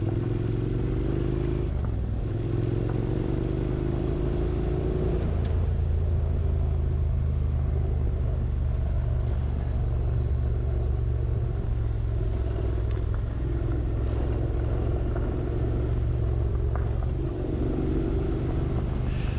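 A Honda NC750X motorcycle rides a local hill trail, its engine a loud steady rumble close by, rising and falling in pitch as the rider changes speed, with faint clatter over rough ground.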